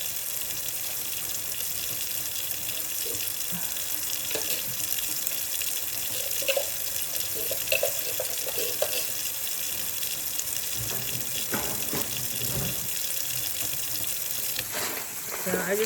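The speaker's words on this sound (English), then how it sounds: "So I just put hot water in here and mix it up." Hot water runs steadily from a tap into a container, a continuous close splashing gush lasting throughout, with faint clinks and brief talk in the background.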